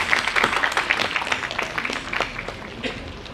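An audience at an inaugural ceremony of an IEEE international conference claps for the guest of honor, a moderate patter of individual claps that thins out toward the end.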